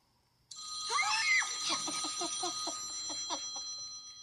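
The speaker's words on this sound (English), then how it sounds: "if you listen real close, you might be able to hear that phone ringing and know just how close he is" A telephone rings close by with bright, sustained electronic ringing tones that start abruptly and keep going in a rapid warbling pulse until the end.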